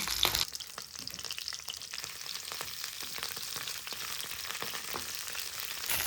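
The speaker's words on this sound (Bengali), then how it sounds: "কপিগুলো আমি হাই ফ্লেমে হালকা হালকা ব্রাউন করে ভেজে তুলে নেব" Cauliflower pieces fry in ghee over a high flame, a continuous close crackling sizzle with occasional stirring clatter and no talking.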